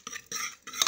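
Metal spoon scraping and clinking against the inside of a pressure cooker while cooked onion curry is stirred, three short bursts of scraping close by with no talking.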